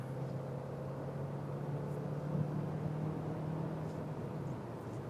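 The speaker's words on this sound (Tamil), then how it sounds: "ஆல்மோஸ்ட் ஒரு 4000 RPM வந்து நம்ம புஷ் பண்ணும்போது கேபின்குள்ளே பார்த்தீங்கன்னா இன்ஜின் நாய்ஸ் வந்து கேட்குது" A new Renault Duster's engine during an overtake nearing 4000 RPM, heard from inside the cabin as a steady droning hum with a low tone under broadband road and wind rush, moderately loud and continuous.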